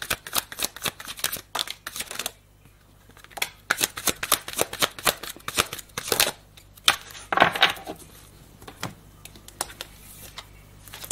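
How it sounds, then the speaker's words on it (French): Tarot cards shuffled and flipped in a run of crisp, rapid riffling bursts and slaps, close and fairly loud, with brief pauses between handfuls and no talking. "3 dernières cartes, Michael."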